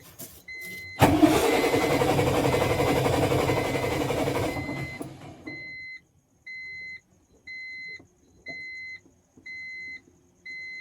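A diesel lorry engine cranks and catches, running loud and rough for about four seconds before cutting out, followed by a regular series of electronic beeps repeating at steady intervals.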